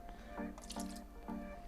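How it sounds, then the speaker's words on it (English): Thin sport laundry detergent pours into a washing machine in a few close, wet glugging splashes with dripping between them, quiet and without talk. "pour it over here."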